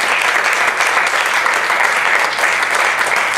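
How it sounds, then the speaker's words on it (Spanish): A church congregation claps together for God, steady and dense applause filling the room for a few seconds with no voices over it. "Uno se pone y le da una paleta de palmas al Señor"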